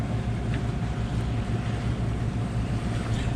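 Steady wind and sea wash aboard a sailboat sailing offshore overnight along the coast from Beaufort, South Carolina toward Fernandina Beach, Florida, a continuous broadband roar with low rumble and no voices.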